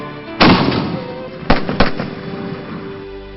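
Fireworks burst in the sky with three sharp, loud bangs, one alone and then two in quick succession, each followed by a brief crackling decay.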